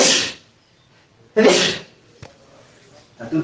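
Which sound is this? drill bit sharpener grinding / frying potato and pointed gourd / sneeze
sneeze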